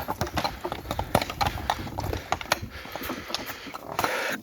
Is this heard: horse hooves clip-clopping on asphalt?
yes